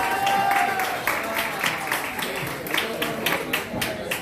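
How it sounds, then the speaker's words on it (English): Audience applause at a Glasgow Black History Month event for a speaker who is a human rights activist, dense clapping sustained at moderate volume over a crowd murmur. "Please give him a round of applause."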